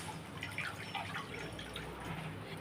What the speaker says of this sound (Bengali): কড়াটার মধ্যে জল দিয়ে দিচ্ছি